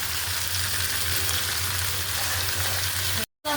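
Fish fry in hot oil in a pan, giving a steady, even sizzle close up that cuts out briefly just before the end.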